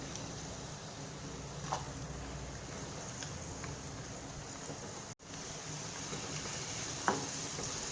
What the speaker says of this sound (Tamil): இதில் இப்போது முந்திரி பருப்பு போட்டு வறுத்துக்கலாம்.